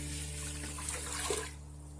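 Water pours steadily into a pot of dry lentils, a continuous splashing stream that stops abruptly near the end, with a constant hum underneath.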